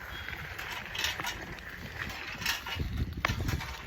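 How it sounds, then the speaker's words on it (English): A junky bicycle rattles and clatters steadily during an outdoor ride over rocks, with bursts of louder knocking toward the end. "This is just my bike getting a little bit junky,"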